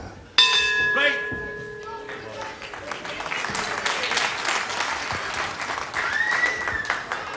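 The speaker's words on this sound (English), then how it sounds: "the bell any second now to end round one." A ring bell clangs sharply to close round one of a 1980s UK televised wrestling bout, its ringing tone sustaining for about a second and a half over a loud, continuous arena crowd of cheering and applause.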